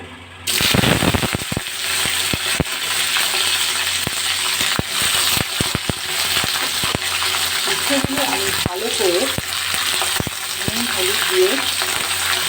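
Bitter gourd pieces dropping into hot oil with a dried red chilli and a bay leaf, setting off a loud, steady sizzle with crackles and pops that carries on throughout.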